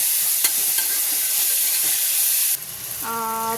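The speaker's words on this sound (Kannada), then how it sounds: "ಟೊಮೆಟೊ ಹಣ್ಣು ಅದನ್ನು ನೀಟಾಗಿ ಫ್ರೈ ಮಾಡ್ಕೊಳ್ಳಿ" Finely chopped tomatoes frying in a pan for a simple pasta, heard as a loud, steady sizzle with scraping stirs; partway through the hiss drops and a bright electronic beep tone sounds.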